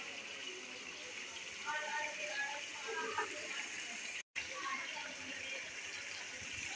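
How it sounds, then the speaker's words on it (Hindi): Hot water poured into a cooking pot of black pepper chicken karahi, a steady close splashing and gushing pour that runs evenly and breaks off briefly near the end. "1 प्याली हमने इसमें पानी की ऐड कर दी है ताकि इसकी अच्छे से ग्रेवी"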